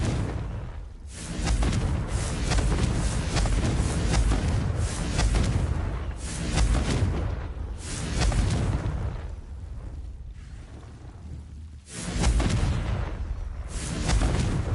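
Confringo explosive spell blasts in Hogwarts Legacy, a string of loud, booming fiery bursts roughly every two seconds, each with a crackling rumbling tail, filling the whole stretch with no talk.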